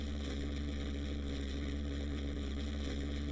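A steady, droning hum of a pulse jet engine in the video game Kerbal Space Program, continuous and even with a buzzing, vibrating tone and no talk.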